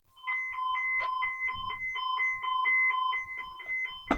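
Emergency Alert System alert tone for a snow squall warning from the National Weather Service in Omaha, with a steady, loud two-tone electronic beeping that pulses rhythmically throughout and ends in a sharp burst.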